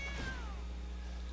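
A single synthetic cat meow rings out from a digital card game with an Esper cow deck, a short, clear, rising-then-falling cry over a steady low hum.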